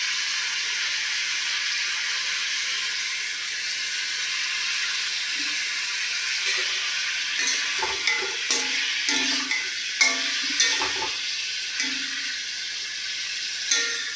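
Onion and capsicum frying lightly in a pan while cooking chilli cauliflower, a soft continuous sizzle with scattered stirring clatters and scrapes growing in the latter half, no talk.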